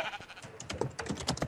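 Sheep bleating in the Minecraft video game, a few short bleats mixed with rapid clicking like keyboard typing, moderately loud and close.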